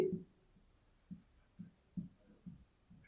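Pen strokes on paper while a math exercise is written out, a series of short soft scratches spaced about half a second apart, quiet and close with no talk.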